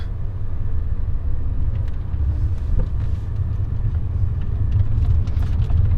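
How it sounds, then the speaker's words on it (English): A McLaren Artura hybrid rolling in fully electric mode, a steady low rumble of tyres and cabin drone with faint whine and no engine note, continuous throughout. "let's start off in fully electric mode. Put it into drive, there we go."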